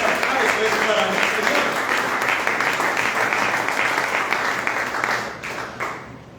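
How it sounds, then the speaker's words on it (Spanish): A church congregation applauds loudly and steadily, a dense wash of clapping that holds for several seconds before fading toward the end. "Ese aplauso es para mi"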